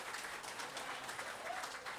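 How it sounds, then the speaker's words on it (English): A crowd at a Kinston gathering about Frontier League baseball claps in brief, fairly faint applause, a dense patter of hands without a voice over it. "Give yourselves a round of applause for being here."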